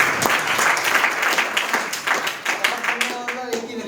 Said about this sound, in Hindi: तालियां हो जाएंगी।